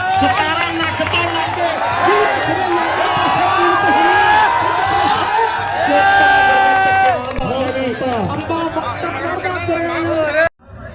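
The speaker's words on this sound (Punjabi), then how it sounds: "ਤਾੜੀਆਂ ਮਾਰਦੇ ਹੋ ਜ਼ੋਰਦਾਰ" Crowd at a two-day village religious fair at a Sikh gurdwara cheering and clapping, a dense, loud hubby roar with whoops and shouting voices layered throughout, cutting off abruptly near the end.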